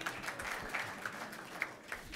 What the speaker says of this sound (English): for your birthday, we are clapping